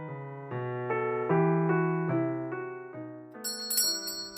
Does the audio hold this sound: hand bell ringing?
yes